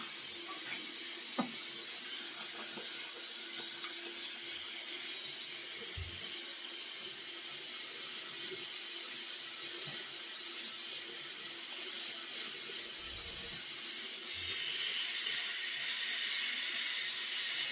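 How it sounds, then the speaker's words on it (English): A bathroom tap runs steadily while the water heats up before face washing, a constant close hiss of flowing water into a sink with faint clinks, no talk. "I have to let the water heat up so I can wash my face"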